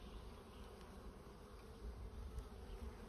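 A honeybee swarm settled in a hive for about a month and in strong condition hums with a steady, dense buzz, faint and close, with no voices over it.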